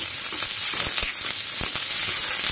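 Chopped capsicum and onion fry in a pan on a low flame, giving a loud, continuous close sizzle with occasional soft stirring taps and no talk.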